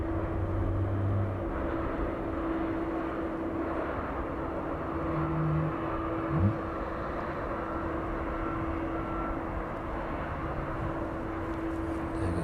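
A DHL aircraft flying at East Midlands airport in the evening: a steady, distant engine drone with a sustained tonal hum, continuous and fairly faint, with no voices.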